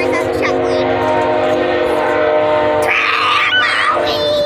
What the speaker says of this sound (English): I just hear a train right now.